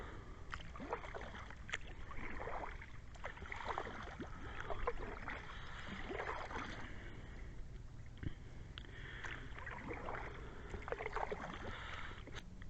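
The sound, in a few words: kayak paddling on river at night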